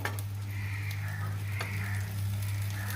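Pointed gourd (potol) shallow frying in a pan gives a steady, close hiss and crackle with a few light scraping touches, alone with no talking.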